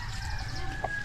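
Native hens clucking in a coop, a short soft cluck heard against steady low rumbling farmyard background noise.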